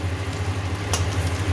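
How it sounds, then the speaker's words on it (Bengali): Potatoes frying in a pan with salt added, a soft continuous sizzle with a low steady hum underneath and one brief sharper crackle midway, no talking. "এটা হয়ে গেছে আলু ভাজাটা"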